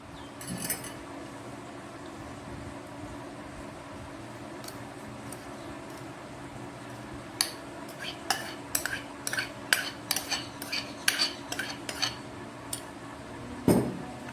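A spoon mixes egg mixture in a bowl for an egg sandwich, giving a quick series of close metallic clinks and scrapes against the bowl in the second half, with a quieter scrape early on.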